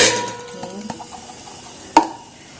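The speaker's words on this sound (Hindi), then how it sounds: "इधर लगा रही हूँ दाल में तड़का, किस चीज़ का, हींग" Brief kitchen sounds with a clink of a pan and spoon stirring as asafoetida is tempered for dal, a short sizzle rising near the end, close and fairly quiet.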